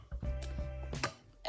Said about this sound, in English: now I'm just going to take the masher and just break up the apples